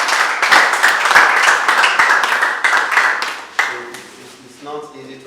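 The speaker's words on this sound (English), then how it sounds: "Let's applaud." A group claps at an empowerment program gathering. Brisk, fairly loud applause runs for several seconds, then thins out and fades as a voice begins talking near the end.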